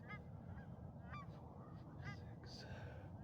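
Geese honk repeatedly from a short distance outdoors, several overlapping calls over a low, steady rumble of background noise.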